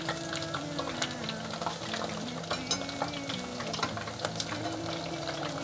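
Three pieces of food deep-frying in hot oil, turned with chopsticks until golden and crisp; a steady, dense sizzle and bubbling crackle fills the whole stretch, close and even, with no talk.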